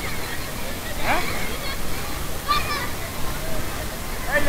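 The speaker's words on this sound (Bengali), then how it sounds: "এখন জলে ডুব দিব, দিব ডুব" Water churns and sloshes at a water park as someone plunges in, with faint splashes near 1 and 2.5 seconds inside a steady wash of pool noise and background voices.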